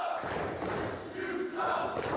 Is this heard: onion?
no